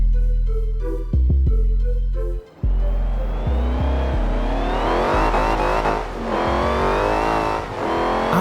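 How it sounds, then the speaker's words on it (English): A supercharged racing V8 in Forza Horizon 4 revs hard and loud, with a few sharp throttle blips before a long, sustained climb in pitch, close and without speech. "A racing V8 with a supercharger turned all the way up."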